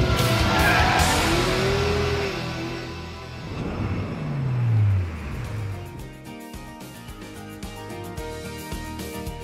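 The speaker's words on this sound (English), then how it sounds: "The way it's moving around, it's sliding, it's reacting to every one of my inputs." A Porsche 911 GT3 RS slides around the Nardo test track, tires squealing and skidding loudly over a steady engine roar, with a sweeping tonal squeal mid-clip before the car settles into a revving run.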